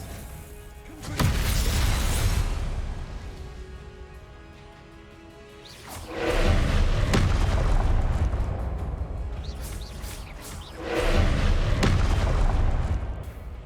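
Three heavy blasts from the Confringo spell in the video game Hogwarts Legacy, each a deep rolling boom that swells and slowly fades, arriving roughly every five seconds and loud throughout.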